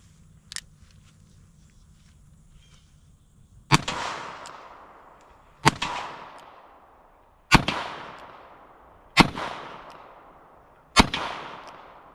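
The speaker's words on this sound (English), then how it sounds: "I'm gonna shoot the Taylor's first, and then I'll shoot the Stoger." Five loud, close gunshots from a Taylor's 1872 Colt open-top replica revolver in .45 Colt, fired at an even pace about two seconds apart, each with a ringing outdoor decay, after a faint click.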